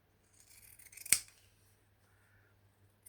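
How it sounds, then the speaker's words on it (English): Small pinking shears snipping through fabric for a stitched flower and lace piece: one crisp, close cut with a quieter rustle of cloth before it, then near silence. "I'm going to grab my small pinking shears."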